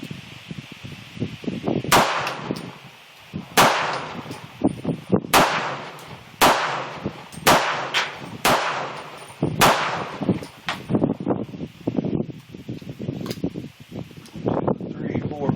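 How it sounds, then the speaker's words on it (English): A FEG PA-63 pistol fired at a target 10 yards away: about eight sharp, loud shots in a fairly quick sequence with brief gaps, followed by clicks and handling noise, with someone talking in between. "I was kind of shooting a little fast, but I've got 7 rounds on an 8-inch target."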